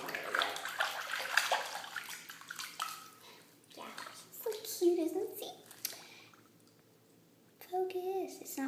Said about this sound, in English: I just feel like giving her a bath.